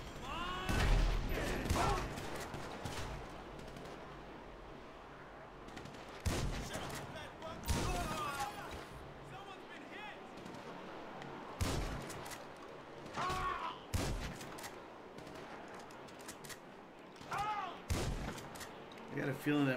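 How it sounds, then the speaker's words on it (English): Shotgun fire in the video game GTA V comes as loud, booming blasts spaced apart over a steady game background, with someone talking between and under the shots. "my shotgun's not very accurate from this distance"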